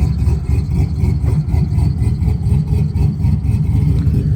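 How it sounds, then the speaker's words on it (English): A burnout truck's engine roars under load in a private outdoor spot, a loud, continuous low rumble with a pulsing throb and no voices. "Let's see what the truck does."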